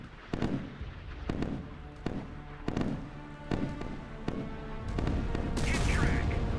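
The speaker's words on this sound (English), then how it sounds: "they're trying to shoot down my missiles" Rapid bursts of naval gunfire and explosions from the Sea Power warship game as incoming missiles are shot down, repeated sharp booms roughly every half second to second, building into a sustained roar of blasts near the end.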